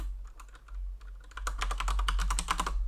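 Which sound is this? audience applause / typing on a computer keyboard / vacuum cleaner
typing on a computer keyboard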